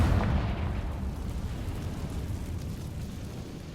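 A low, rumbling fiery blast from the Confringo fire spell in Hogwarts Legacy, a dull roar fading slowly over a few seconds, no talking.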